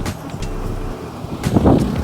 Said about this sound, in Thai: โอ้ยลมแรงอย่างนี้จะบินโดนขึ้นได้ผมว่าเนี่ย